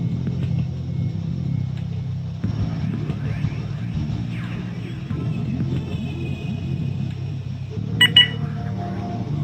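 A car driven in the video game Sift Heads World, a low steady engine rumble with shifting, whining pitch sweeps and a brief electronic beeping burst near the end, with no talk over it.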